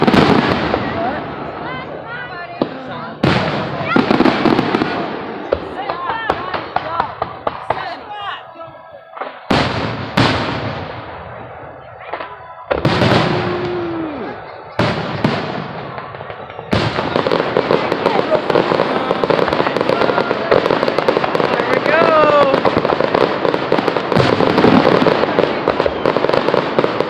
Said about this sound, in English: Why does the bang come after the fireworks?